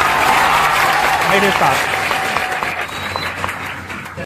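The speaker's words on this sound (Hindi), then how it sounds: "लेकिन एक बार हम यह चाहते हैं कि आप अपने लिए एक बार फिर से ताली बजाइए" Audience clapping fills the room, loud and sustained at first, then thinning out, with someone speaking over it briefly.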